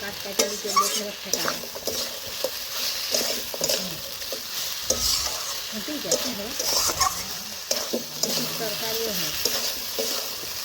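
Mutton and papaya stir-fried in a pan, a constant sizzle of frying under repeated scraping and stirring strokes close by, with occasional faint voices.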